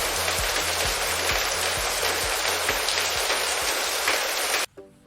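Steady, heavy rain drums close and loud on a surface, a dense continuous hiss with a faint regular low thumping beneath, cutting off abruptly near the end.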